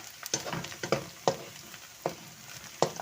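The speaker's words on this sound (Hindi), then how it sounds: "आधे प्याज को हम ब्राउन कर रहे हैं।" Onions fry and brown in a pan, giving a steady crackling sizzle broken by sharper pops and spatters at irregular intervals, with no talking.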